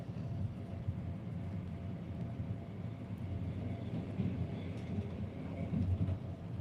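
An IC Śnieżka passenger train runs with a steady low rumble and rolling drone that holds at an even loudness throughout, close and continuous, with no talk over it.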